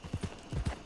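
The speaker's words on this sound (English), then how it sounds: "there's always horses here, especially at night because they're sleeping" Horse hooves clip-clop in Red Dead Redemption 2 at night, a few soft uneven hoof thuds in two clusters with a faint possible whinny, fairly quiet with no talk.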